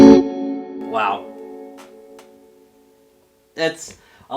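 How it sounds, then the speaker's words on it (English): A guitar note through an Orange Super Crush 100 amp's spring reverb rings out and decays with a long, washy reverb tail, followed by a brief louder strum near the end. "That's a lot of reverb in there."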